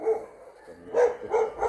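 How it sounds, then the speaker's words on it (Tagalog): On a rural farm in Calbayog, Philippines, a dog gives three or four quick barks close by, one after another, with no speech. "may aso"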